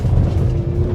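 A Mazda CX-50 climbs uphill off-road in a low gear, giving a steady, close, low engine drone with no talk.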